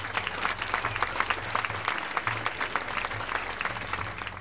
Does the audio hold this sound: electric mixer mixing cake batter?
no